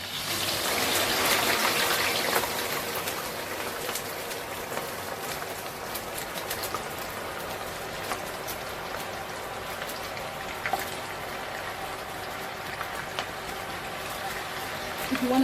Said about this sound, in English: I have to add the potato into oil.